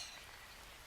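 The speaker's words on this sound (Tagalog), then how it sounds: "Ay, umuulan na. Umuulan ba? Umuulan!" Rain falls in a Roblox game world, a brief, soft, steady hiss with no voices over it.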